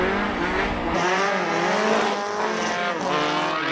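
A classic front-wheel-drive VW MK1 Fox with a bored-out, normally aspirated 2.3 litre engine runs at a race meeting, its harmonic-rich note close and loud, wavering with throttle changes and dipping briefly partway through.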